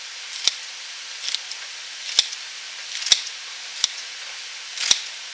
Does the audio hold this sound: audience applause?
no